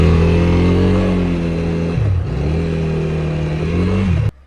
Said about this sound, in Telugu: బైక్ స్టార్ట్ చేసి గేర్ వేసి క్లచ్ రిలీజ్ చేసి థ్రాటిల్ ఇస్తుంటే ఓవర్ ఆర్పిఎం అయిపోతుంది